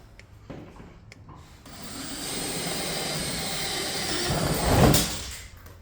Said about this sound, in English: All right, so we're doing a little door removal here, and Lou, I'm just going to ask you